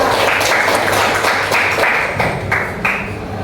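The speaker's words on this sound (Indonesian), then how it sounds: "Tepuk tangan buat Mbak Nisa" Classmates applaud Mbak Nisa in a classroom lesson, a dense, steady wash of many hands clapping together that carries evenly for a few seconds before thinning slightly near the end.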